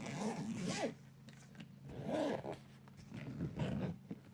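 A zipper on a plastic carbon fiber-look carrying case for an Rlaarlo AM-X12 RC car is pulled in three close, rasping strokes with short pauses between them.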